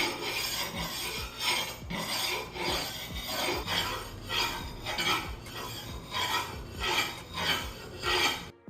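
A 3-pound cleaver is drawn across a 6000 grit whetstone disc, giving steady, rhythmic rasping strokes at close range that repeat about twice a second with no talk.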